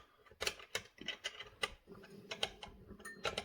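Small hand tool tightening the fuel lines on a ported Homelite XL130 chainsaw, a series of quiet close mechanical clicks and ratcheting ticks in an uneven rhythm.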